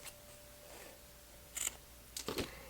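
Scissors cut through folded fabric binding during wallet sewing in two short crisp bursts of snipping, quiet and close, with near silence around them.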